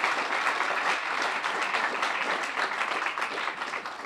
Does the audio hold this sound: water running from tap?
no